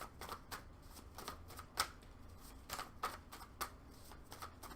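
Tarot cards are shuffled and drawn in quick, faint riffling bursts, with soft papery flicks and taps repeating at an irregular rhythm close to the listener, with no talking.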